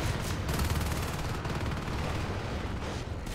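Shotguns fire in the Natural Selection 2 video game, dense layered blasts and game combat noise forming a loud, continuous barrage with no clear gaps.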